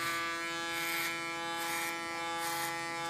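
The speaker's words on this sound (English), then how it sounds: "And use my clipper as a comb." An electric hair clipper buzzes steadily at close range while giving an ultra-short haircut, a bright continuous hum that swells slightly in rhythmic passes as it cuts through hair, with no talking.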